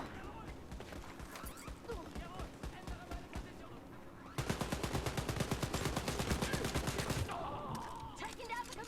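Sustained automatic gunfire from a Wolfenstein Youngblood firefight rattles in a long, loud, rapid burst after scattered earlier shots, with someone speaking over the action.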